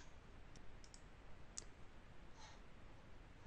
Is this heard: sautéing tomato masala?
no